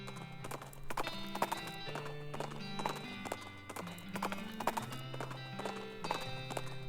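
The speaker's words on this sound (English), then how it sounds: "Maybe I should crank up Horse's travel speed." Horse hooves clip-clopping steadily while travelling in the West of Loathing video game, a regular rhythmic trot of crisp hoof knocks set against a looping melodic game music track, fairly quiet and with no talking.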